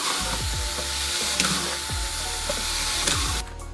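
A small drill bit bores drainage holes through the bottom of a plastic bucket, a steady whirring drone with short grinding bursts where the bit bites, close and fairly loud before cutting off near the end.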